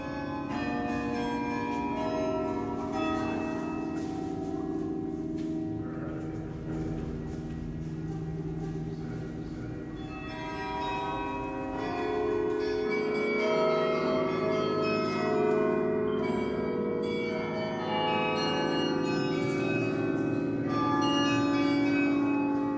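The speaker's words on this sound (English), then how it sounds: "At its peak, this belfry had 52 bells." Bells ring from the medieval Belfry of Ghent in Belgium, a 1300s tower once holding 52 bells, sounding as a sustained tonal peal with layered overlapping tones across the whole span, steady in loudness with some outdoor traffic rumble beneath.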